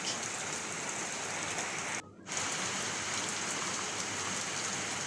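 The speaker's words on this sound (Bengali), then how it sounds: "আল্লাহ, অনেক বৃষ্টি পড়তেছে" Heavy rain drums on a tin roof in a constant dense hiss, close and loud, with a brief drop in level partway through before the downpour resumes at full strength.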